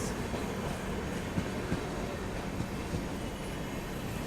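The Sealdah Rajdhani Express, hauled by a WAP7 electric locomotive, rumbles past as a steady, fairly faint low roar with light rhythmic wheel clatter and occasional knocks, and no voices.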